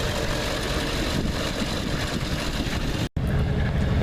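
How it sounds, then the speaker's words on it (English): Diesel exhaust note from the tailpipe of a 1984 Oldsmobile Delta 88, a loud, steady low idle rumble recorded up close, broken by a brief dropout near the end before resuming. "And there's the sound out the tailpipe of it."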